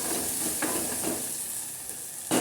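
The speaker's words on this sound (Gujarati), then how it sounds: "તમે જોઈ શકો છો આ ભીંડો થોડોક તેલમાં સંતળાઈ ગયો છે।" Sliced okra sautéing in hot oil with garlic chutney in a pan, a steady close sizzle and hiss with soft stirring scrapes and a louder burst of frying near the end.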